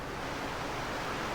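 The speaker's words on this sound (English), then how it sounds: "Nice waterfall there." Steady broadband rush of a waterfall in the Farming Simulator 17 video game, a continuous even wash of falling water with no talk over it.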